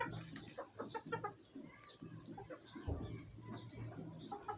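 Native free-range chickens cluck and coo continuously on a sunny rooftop, several birds close by with overlapping calls and no talking.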